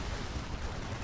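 Dense, continuous rattle of automatic weapons and small-arms fire in a Warhammer 40,000: Dawn of War battle, a steady loud barrage with no pauses.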